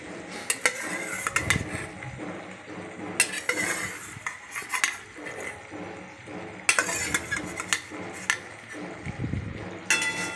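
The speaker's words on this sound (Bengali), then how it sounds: "ভাজা পনিরগুলো দিয়ে পালং শাকের পেস্টের সঙ্গে আবার ভালো করে মিশিয়ে নিলাম, নাড়াচাড়া করে নিলাম।" Metal utensils scrape and clink against a pan in irregular bursts while fried paneer is stirred into spinach paste, with a soft background hum and no talking.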